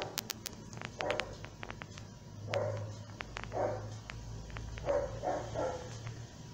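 Several dogs bark intermittently in the background of a quiet home study session, producing repeated short barks at a moderate distance with brief pauses between them.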